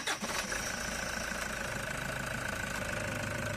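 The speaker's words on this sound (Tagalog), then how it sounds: "I-switch off ko ulit itong makina mga boss, tapos i-start ko ulit yan" A Toyota Hiace engine, just bled of air after fuel pump work, cranks briefly and catches, then settles into a steady, rough, rumbling idle that stays loud and close throughout.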